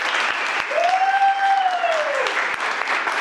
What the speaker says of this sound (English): So big round of applause for Aaron's family